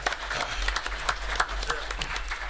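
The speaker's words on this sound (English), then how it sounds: "But let's give her a round of applause again," A modest crowd at a city gathering in Florence, South Carolina, claps in a round of applause, with sharp individual claps standing out over a low steady hum, fairly faint and distant.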